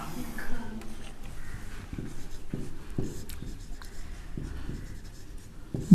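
A pen scratches across paper in short repeated strokes, close and fairly soft, while a teacher speaks quietly during a lesson.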